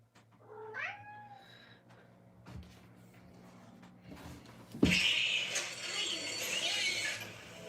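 A cat gives a few short, rising meows up close near the start, followed by a pause and then a sudden loud bump and a long stretch of rustling handling noise.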